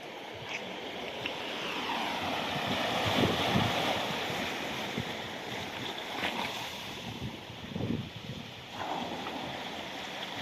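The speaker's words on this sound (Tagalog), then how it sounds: "napakalakas ng alon" Heavy surf rolls and crashes in continuous swells in stormy weather in Bicol, with gusting wind buffeting the microphone throughout.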